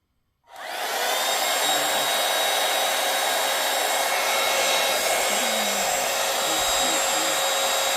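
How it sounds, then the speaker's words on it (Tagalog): A hair dryer switches on and runs loudly and steadily, a constant whooshing roar close by with no pauses. "So, guys, this is a blower."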